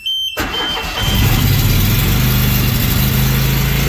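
A Toro TimeMaster 30-inch lawn mower engine cranks and catches after a brief silent pause, then settles into a loud steady run close by.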